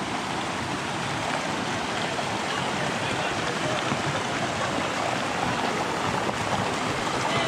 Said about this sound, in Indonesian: Nah, ini ada kalinya seperti ini ya.